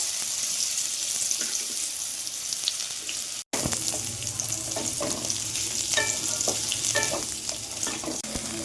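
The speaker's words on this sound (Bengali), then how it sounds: "তেলটা তেতে গেছে এবার আমি সজনে ডাঁটাগুলো দিয়ে দেবো" Hot oil sizzles and crackles steadily, briefly cutting out before resuming louder as drumstick vegetable pieces hit the pan, with occasional stirring scrapes.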